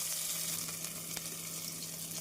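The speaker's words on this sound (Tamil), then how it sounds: "இஞ்சி பூண்டு விழுது சேர்த்து மீடியம் ஃப்ளேமில் நன்றாக வதக்கிய பின்னர்" Steady hiss of ginger garlic paste frying in a hot pan over medium flame, a continuous broadband sizzle with a faint low hum beneath, no voices.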